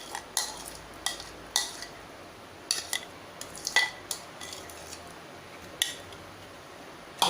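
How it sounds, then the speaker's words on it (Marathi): A spoon stirs milk powder into milk in a metal pan for saffron pistachio kulfi, giving repeated close clinks and scrapes against the pan at an uneven rhythm over a steady hiss of heat, with no talking. "हे साधारण अर्धा मिनिट आपल्याला याच्यात छान मिक्स करून घ्यायचं आहे,"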